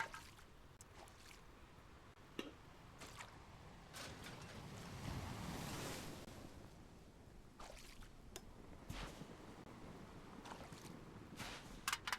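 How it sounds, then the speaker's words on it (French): Gentle ocean waves wash and surge on an island shore in the game Restore Your Island, a steady soft swell that rises and falls with occasional brief splashes and clicks, no talking. "Le bruit des vagues, c'est pas mal."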